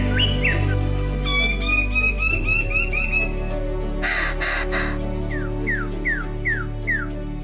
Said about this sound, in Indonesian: burung cendrawasih